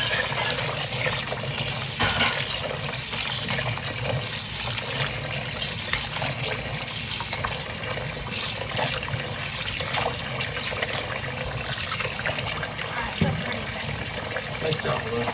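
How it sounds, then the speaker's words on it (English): Rhubarb stalks being rinsed and swished around in a basin of water, giving a steady close-up trickling and sloshing of water throughout, with a voice speaking intermittently over it. "Blue, you want to shake it around that water, make sure it gets to the steam."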